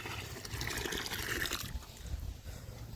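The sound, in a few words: water poured from a pot into a water trough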